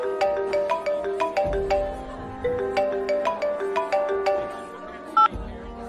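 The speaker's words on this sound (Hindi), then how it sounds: "तुरंत उसे ऑफिस से फोन आ गया।" A phone ringing with a repeated electronic ringtone melody, two bursts of the tune separated by a brief pause, loud and close with no talk over it.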